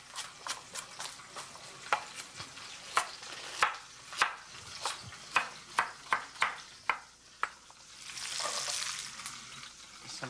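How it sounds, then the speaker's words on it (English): Carrots, onions and garlic wilting in a roasting pot, sizzling steadily while a utensil scrapes and clacks in a quick regular rhythm, close and fairly loud, with a stronger hiss swelling near the end and no talking. "I'm gonna wilt the vegetable in the same pot that I'm going to roast the stinco in."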